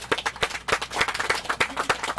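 Applause from a small audience at a Cleveland city press conference welcoming a new Director of Public Works: sparse, uneven claps in a loose rhythm, fairly close and moderately loud, with no talking over it.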